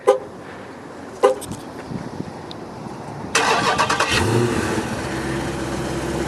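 A 2015 Dodge Challenger SRT-8 392 V8 fires up by remote start: a couple of sharp clicks and chirps, then the engine catches with a loud cranking burst and settles into a deep, rumbling idle close by.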